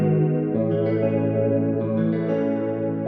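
Sustained guitar tone through an acoustic multi-effect plugin, drenched in chorus and echo, a shimmering, slightly distorted wash that holds steadily and loud without any talking.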